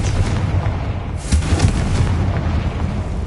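A Confringo blasting spell in Hogwarts Legacy sets off a heavy, rumbling explosion with a sharp burst near the middle, followed by a continuous low roar and debris-like noise.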